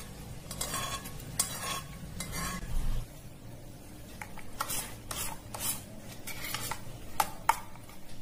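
Cooled tempering with curry leaves is tipped into ash gourd yogurt pachadi and stirred, producing close, intermittent scraping and rubbing spoon strokes in short bursts with quiet gaps, no voices.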